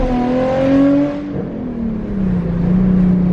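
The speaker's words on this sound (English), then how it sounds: "I've never had a car so loud where I feel guilty getting on it" A loud Ford Mustang Shelby GT350 V8 revs hard close by, its engine and exhaust note climbing, dipping briefly, then settling into a steady, rumbling high idle-like drone.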